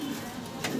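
A pair of young Lahori pigeons coo softly in a brief, quiet moment, low murmuring tones with a faint rustle near the end.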